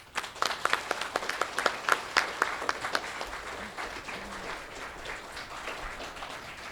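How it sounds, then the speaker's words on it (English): A fifth-grade class gets a round of applause at a school awards ceremony, with crisp individual claps building quickly and then thinning into softer scattered clapping from a moderate-sized crowd. "Let's give Miss Tarver's class a round of applause"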